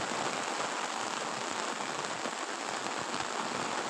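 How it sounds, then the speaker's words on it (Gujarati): Heavy rain in a village pours down as a dense, constant hiss drumming on surfaces, loud and unbroken with no voices over it. "એ તો વધતો જાય છે વરસાદ વધતો જાય જો"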